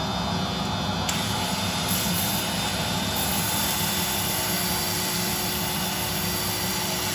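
Constant loud whirring of a power drill sander with 180-grit paper on turned wood, running without pause, a dense steady grinding roar throughout.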